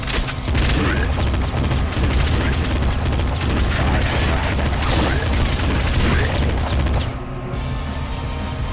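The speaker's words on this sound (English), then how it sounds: "Assault rifle." Assault rifle firing in the game Nuclear Throne: sustained rapid bursts of gunfire layered over game sound for about seven seconds, loud and dense, then cutting off, with a voice faintly present.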